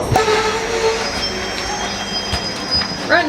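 A passenger train on the Delhi to Jaisalmer route in India, its wheels squealing with high, sustained metallic screeches over a rumbling rail background, close by and loud.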